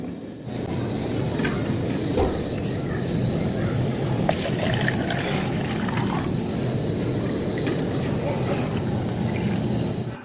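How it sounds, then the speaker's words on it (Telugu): Lukewarm salted water poured into a jala neti pot, a steady, close trickle that keeps running for several seconds. "ఈ గోరువెచ్చని నీటిని ఇలాంటి జలనేతి పాట్లో"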